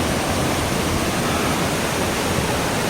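Daringbadi's main waterfall roars as a constant, dense wash of falling water, loud and steady with no voices.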